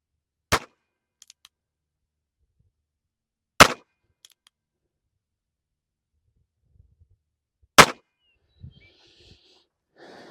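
A tiny NAA .22 Short revolver fires three sharp, loud shots spaced a few seconds apart outdoors, with faint handling sounds and quiet breathing between them.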